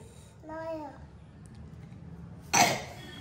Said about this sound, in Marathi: ठसका नाही, तो खोकलाच आहे